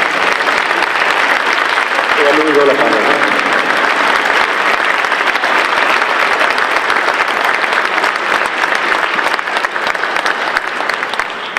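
Loud, sustained applause from a concert audience welcoming a conductor, a dense wash of clapping that fills the whole stretch while a voice speaks briefly over it.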